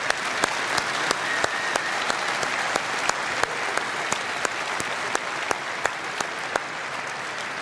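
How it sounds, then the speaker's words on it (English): A rally crowd in London claps steadily for several seconds, a dense even roar of applause with crisp individual hand claps popping out at a regular pace over the top. "Let's give everyone who's applied a round of applause."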